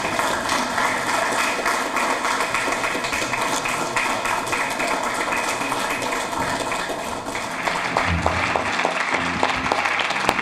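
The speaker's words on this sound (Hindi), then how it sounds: "तालियां बजाइए" An audience claps steadily in a hall as a mark of respect for an arriving judge, a dense, sustained wash of applause that turns to a few more distinct, scattered claps near the end.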